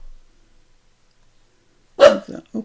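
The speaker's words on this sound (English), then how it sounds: "Bobby, what you barking at?" A dog barks indoors in a short burst of three quick, fairly loud yaps after a long silence, heard alone with no talk.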